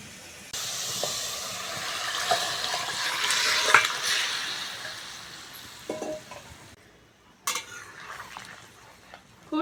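Fish broth for a thin bata fish curry poured onto a cumin and fennel tempering in hot oil, bursting into a loud hissing sizzle that slowly fades, followed by a few utensil clinks and stirring sounds, with no talking.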